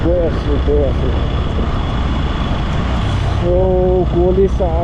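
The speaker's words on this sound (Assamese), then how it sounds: "2 নম্বৰ গিয়াৰত বাইকে টানিকে আছে" A motorbike engine drones steadily and strains in second gear as it climbs uphill, with someone talking over it throughout.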